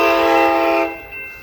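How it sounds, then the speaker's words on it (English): Amtrak San Joaquin passenger train, an SC44 Charger locomotive, sounds a loud sustained multi-tone horn chord at close range, then the blast cuts off and the train's rumble carries on more quietly. "This is Amtrak San Joaquin train 714 going to Bakersfield. Here it comes."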